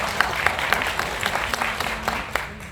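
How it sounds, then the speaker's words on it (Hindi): A studio audience applauds with a steady wash of clapping and scattered sharper claps, moderately loud and continuous, with no voices over it. "ये जो आप लोग ताली मारा ना"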